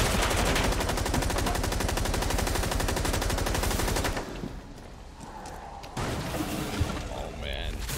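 Gunfire in Rainbow Six Extraction, a loud rapid string of shots filling the first half, then quieter scattered sounds with a few sharp reports and voices.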